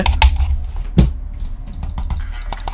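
Rapid clicking and tapping of computer input while a Roblox horror game is played, close and fairly loud irregular clicks with one sharper knock midway.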